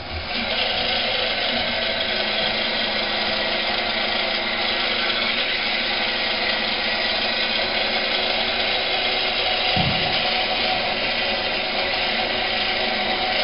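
A fishing winch rewinds its line with the clutch set to slip, giving a steady, loud mechanical whir and hum that runs unbroken from start to finish, with one brief thump near the end.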